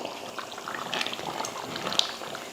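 Chicken kuzhambu curry simmers in a pot with soft, faint, continuous bubbling close by, and a small pop stands out near the end.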